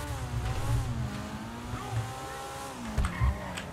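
Video-game car drifting toward a garage, with engine revs rising and falling, faint tire squeal and bursts of acceleration, at fairly low level throughout with no speech.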